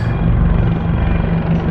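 Armed military helicopters' rotors thump steadily and loudly overhead in Israel, a continuous low throbbing drone with no voices.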